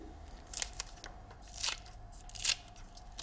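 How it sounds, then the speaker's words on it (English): Several crisp snips of scissors cutting through spring onions, quiet and close, spaced irregularly over a low background hum. "Now, 2 spring onions, just snip them in with scissors."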